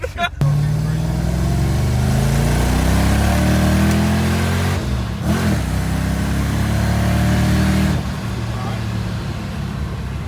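A car engine with a slipping belt revs hard up close, its pitch climbing and holding in a loud drone, with a brief dip midway and voices talking over it.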